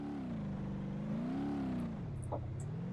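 A Lada driving toward a wall in BeamNG.drive, its engine droning steadily and rising and falling in pitch as it accelerates, close and continuous.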